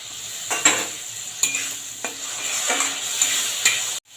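Ginger, cumin and green chili paste sizzles with frying potatoes in a pan, a bright continuous hiss broken by several distinct scraping stir strokes at irregular intervals, close and clear with no voices.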